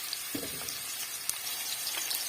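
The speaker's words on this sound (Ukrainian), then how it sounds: "В глибоченьку сковорідку влила мілілітрів 50 олії рафінованої і додаю цибулю." Onion frying in about 50 ml of refined oil in a deep pan gives a steady, close hiss and sizzle with a few soft stirring clatters.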